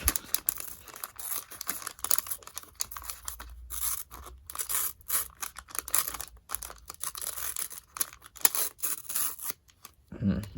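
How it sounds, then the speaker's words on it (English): Album packaging ripped open slowly and carefully, close and crisp, a long run of short tearing and crinkling bursts with brief pauses between them and a louder crinkle near the end. "let's try for a very delicate rip"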